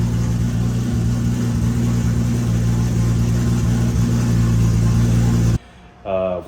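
A repaired car engine, fixed after bearing material turned up in the oil pan, runs loud and steady at close range, with a strong low drone for several seconds before cutting off abruptly near the end.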